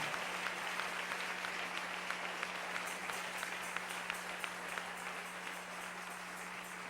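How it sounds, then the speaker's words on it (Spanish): A church congregation claps steadily and enthusiastically for several seconds during a morning service, a dense wash of applause with a low hum underneath. "Dele ese aplauso al Señor en esta preciosa mañana"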